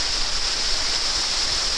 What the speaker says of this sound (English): I like this waterfall.